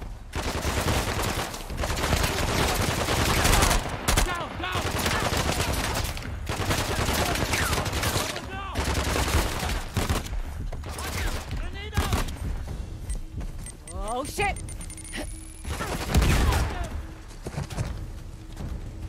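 Gunfire in the action game Uncharted: The Lost Legacy: repeated loud bursts of shots and impacts in close succession, with a player's voice talking between and over the volleys.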